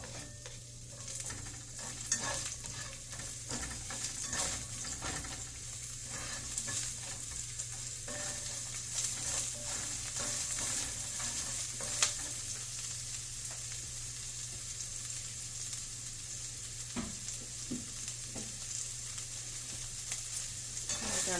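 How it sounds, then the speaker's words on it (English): Onions and peppers stir-fried in a pan for vegan teriyaki, giving a steady sizzle with frequent scraping and stirring clatter, close and continuous throughout, with no voices. "Go ahead and add our onions and peppers."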